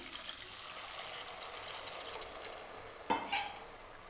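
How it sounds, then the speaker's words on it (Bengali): Water added to fried moong dal in a hot pan gives a steady, hissing sizzle with a brief splash and bubbling partway through, close and continuous, with no talking. "এবার এতে দিয়ে দিচ্ছি পরিমাণ মতো জল"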